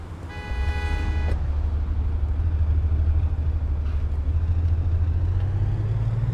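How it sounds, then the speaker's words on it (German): A car drives in the business simulation game Big Ambitions as a steady low engine rumble. A short horn-like toot comes near the start, then the drone holds at an even level to the end. "Da fahren wir im Auto."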